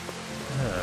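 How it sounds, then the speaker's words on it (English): Steady rain falls in Final Fantasy XV, a constant even wash of patter without pauses over the short stretch. "Yes, I know it's rain, Mr. Mostly Mittens."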